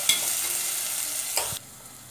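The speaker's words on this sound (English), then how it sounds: "this also we have to stir for some time so that the carrots and the vegetables" Carrots and mixed vegetables fry in a pan with a soft, even sizzle, a couple of brief stirring scrapes, then the sound drops away abruptly near the end.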